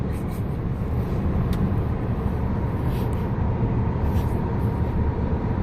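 Continuous steady road and wind roar from inside a Volvo cruising at highway speed on an open road, loud and unbroken with no talk.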